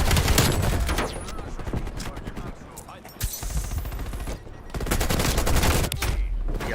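Dense, loud gunfire in Call of Duty Warzone, with rapid automatic bursts and sharp shots stacked almost continuously, while players talk over the action.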